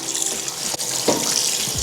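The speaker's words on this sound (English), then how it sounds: "I'm just gonna rinse it off with water" Cold tap water runs steadily from a faucet into a sink as raw chicken is rinsed in a strainer, a continuous close splashing stream with a brief clatter partway through.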